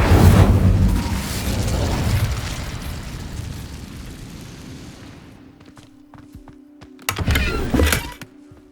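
The Incendio fire spell from Hogwarts Legacy erupts loudly at the start in a whooshing burst of flame that slowly dies away. A second, shorter fiery burst follows near the end.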